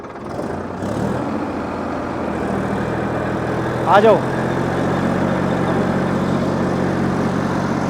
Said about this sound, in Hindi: 2000 RPM कर दो ट्रैक्टर के।